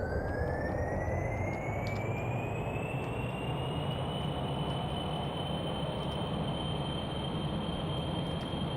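Jet engine on a rocket in Kerbal Space Program spooling up for a vertical launch, a loud steady roar with a rising whine that climbs and holds throughout.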